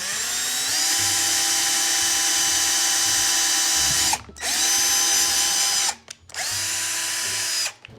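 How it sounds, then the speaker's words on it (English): A power drill bores a hole into a shield, whining loudly and steadily at high speed, stopping briefly twice before spinning up again. "Gonna get the drill ready. Just start drilling."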